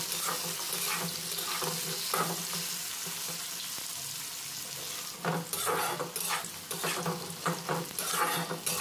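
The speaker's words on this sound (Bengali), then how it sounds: "এখানে কিন্তু ভাজতে ভাজতে আলু আর বেগুন দুটোই সেদ্ধ হয়ে যাবে।" Potatoes and eggplant fry together in a wok with a steady sizzle, then louder stirring scrapes clatter close by in irregular bursts toward the end.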